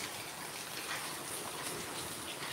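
Heavy rain falls steadily during a night downpour, heard from a doorway as a dense, continuous hiss with constant patter and no pauses.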